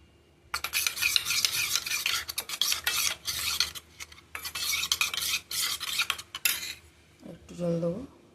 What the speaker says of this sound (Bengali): এটা সামান্য জল দিয়ে গুলে রাখবো।